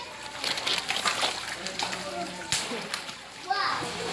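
Children splashing as they swim in water, with kids' voices talking and calling out over the close, irregular splashes and sloshing.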